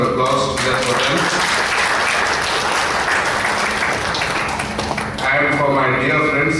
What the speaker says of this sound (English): Can we hear a big round of applause to them for them?